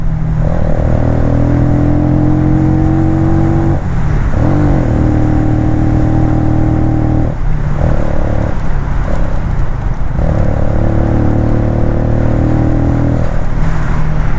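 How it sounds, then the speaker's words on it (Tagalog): A Benelli Motobi EVO 200cc petrol cruiser motorcycle engine drones steadily while riding, its loud close hum dipping and rising several times with gear shifts, no talking. "This is 200cc na motorcycle. Hanggang 5th gear yan, 5th gear."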